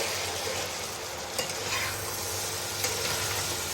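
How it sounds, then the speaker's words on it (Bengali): Goat head mutton curry being stirred in a pot for a village-style mutton dish: a close, continuous sizzle and frying hiss, with a few soft scraping bumps from the stirring. "এটা ভালো করে মিক্সচার করে নেব।"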